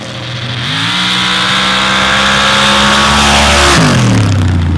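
A 1932 Chevy pickup makes a drag racing pass, its loud engine roaring close and rising in pitch through the gears, with a sharp shift near the end before it climbs again.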